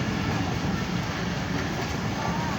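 A train rolling into Lahore city from the surrounding villages gives a steady, loud, continuous rumble and rattle of wheels and cars on the rails, unbroken for the whole stretch.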